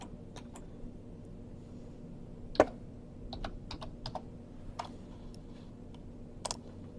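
Sparse typing on a computer keyboard, with scattered individual key clicks and one louder key press, close and quiet over a low background hum.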